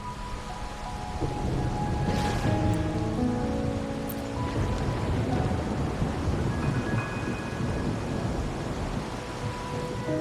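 Heavy rain pours in the video game Wuthering Waves while a deep roll of thunder swells and lingers, with faint tonal music threading through the steady downpour.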